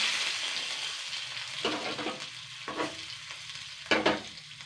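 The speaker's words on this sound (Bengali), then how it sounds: "জিরেটা একটু ফাটা ফাটবে তখনই কিন্তু ফোড়ন দিতে হবে" Cumin seeds and seven or eight cloves of chopped garlic sizzle in hot oil as a tempering: a steady, close frying hiss broken by a few louder stirring scrapes, with no talking.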